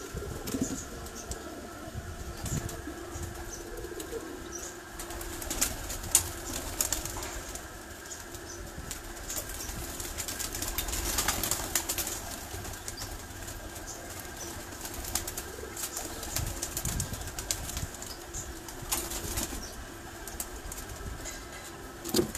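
Imamdin pigeons at a rooftop breeding setup give off soft coos and bursts of wing flapping over steady background hum and noise, fairly faint throughout.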